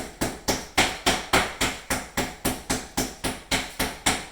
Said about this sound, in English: And then we'll take the rough side and we'll pound out both sides.